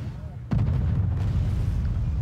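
Explosions from bombing tanks in the Wargame Red Dragon war game: a sudden heavy boom lands about half a second in, followed by a sustained low rumble, with a voice talking over it.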